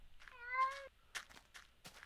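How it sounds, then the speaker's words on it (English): A single close cat meow with a rising-falling pitch in a video game village, followed by a few light footstep-like taps. "A cat."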